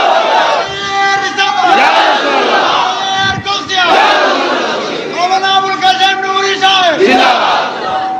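A large crowd roars a loud chanted takbir response in unison during a religious gathering, with several long sustained calls rising and falling over about eight seconds.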